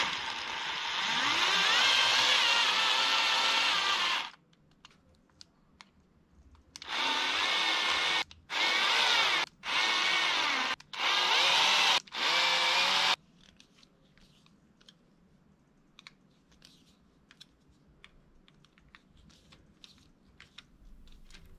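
A power screwdriver driving screws into a handmade PAF humbucker pickup: one long whirring run, then several short bursts of buzzing separated by pauses, followed by faint ticks and handling clicks, close and fairly loud.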